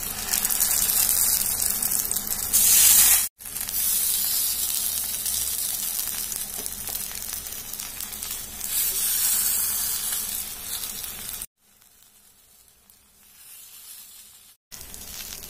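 Eggplant slices fry on a hot tawa with a loud, continuous sizzle and hiss. Short breaks cut in, and a quieter, softer stretch comes near the end before the frying noise returns.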